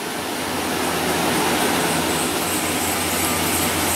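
A Dodge Dakota engine, in a truck with harsh shifting and a P0715 input speed sensor fault, holds a steady raised idle around 2,000 RPM, a loud continuous broadband roar with no talk.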